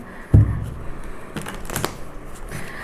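Osho Zen tarot cards shuffled in a brief burst of rustling and flicking at close range, followed by softer intermittent card riffles against quiet room tone.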